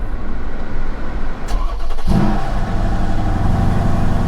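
A Mercedes E63 AMG with the Performance Package cranks and fires at about two seconds, then revs loudly before settling into a strong, rumbling idle, recorded close up.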